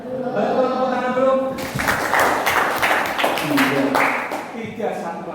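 A classroom group claps after a teacher's prompt during an Islamic religious education lesson, a burst of mixed hand claps beginning partway through and running to the end, with voices speaking before and over it.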